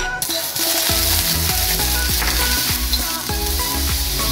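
Butter sizzling and frying steadily in a preheated frying pan while spaghetti with tuna sauce is cooked, a dense continuous crackle with stirring and light metallic scrapes running throughout, loud and close.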